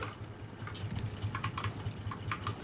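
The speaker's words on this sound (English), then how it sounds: "Alex, I can hear you tapping your keys." Computer keyboard keys are tapped in quick, uneven bursts of soft clicks, fairly faint and close, with no talk over them.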